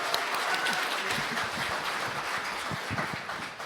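Steady audience applause at an agricultural awards ceremony welcoming a baritone singer to the stage, a dense, even wash of clapping that holds throughout at moderate loudness.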